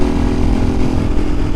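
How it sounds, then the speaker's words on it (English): A KTM EXC-F 500 dual sport motorcycle pulls hard on a street, its single-cylinder engine a loud, continuous buzzing drone heard close up for a brief moment. "A 250-pound dual sport bike, they're a dream on the street."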